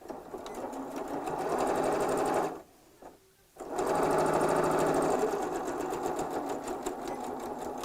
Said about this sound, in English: I'm not going to sew right up to the very edge